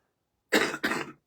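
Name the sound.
coughing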